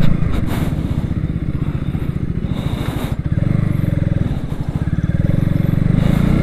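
A 2021 KTM Duke 200 BS6 motorcycle on a test ride, its single-cylinder engine throbbing loud and close with a rapid pulsing beat, easing briefly and then pulling again as speed rises amid wind buffeting.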